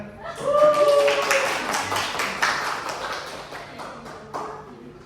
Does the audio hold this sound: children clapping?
yes